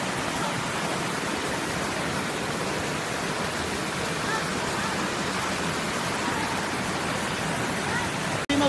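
Water rushes at Gayas Waterfalls in a steady, loud, close roar that holds unchanged throughout before cutting off abruptly at the end.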